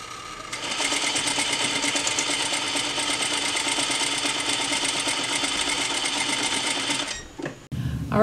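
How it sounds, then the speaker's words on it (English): A sewing machine stitches close to the edge of a fabric scrunchie in one steady, loud, continuous run that stops near the end, with no talk over it. "tuck that in from that opening, and just sew really close to that edge"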